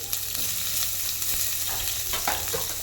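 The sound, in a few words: onion frying in oil with cumin, mustard seeds and crushed garlic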